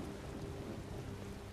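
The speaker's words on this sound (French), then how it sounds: "il pleut toujours ici," Rain and thunder in the video game Skyrim: a dense, steady hiss of rainfall with a low rumbling undertone, continuous and fairly faint, no talk.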